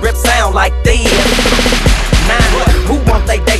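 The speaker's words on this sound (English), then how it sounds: "Click my pistol grip sound like this." A rap song with a thick beat and music is punctuated by several sharp pistol gunshot effects in quick succession.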